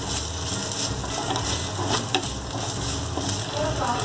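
Green chili sautéing in a pan for coconut fish curry, a steady close sizzle of frying with light stirring scrapes throughout.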